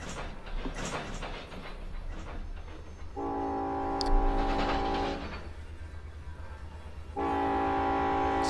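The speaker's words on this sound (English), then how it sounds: "It's actually honking at the crossing." A train horn honks at a grade crossing in the Run8 train simulator, two long sustained blasts over a rumbling locomotive and rolling rail noise, with no talking.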